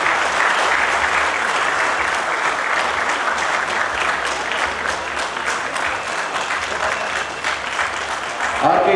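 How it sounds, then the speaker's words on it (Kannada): An audience claps loudly and steadily at a trophy and jersey launch event for the Karunadu Premier League cricket tournament held by RK Tigers Sports Club in Hubballi, a sustained wash of applause with a voice breaking in near the end. "ತಮ್ಮೆಲ್ಲರ ಜೋರಾದ ಚಪ್ಪಾಳೆಗಳ ಮುಖಾಂತರ ವೇದಿಕೆ ಮೇಲೆ"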